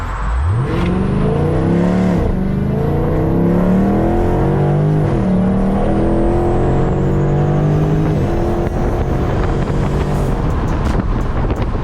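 A 2019 Dodge Charger Scat Pack launches hard, its engine revving and climbing through gears with rising and falling pitch, heard from inside the car over loud wind buffeting and a persistent high whine.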